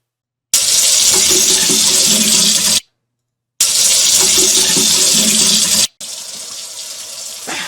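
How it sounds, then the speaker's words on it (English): Kitchen tap running hard into a sink while peanut butter is rinsed out, two long steady gushes broken by abrupt shutoffs, then a softer stream, close and loud with no talking. "Rinsing some peanut butter out of the sink."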